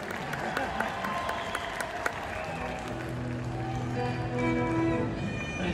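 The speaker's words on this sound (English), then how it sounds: "Everybody that clapped anyway." At a concert, the audience applauds in a steady mass of clapping, with scattered shouts and instrument tones rising beneath it toward the end.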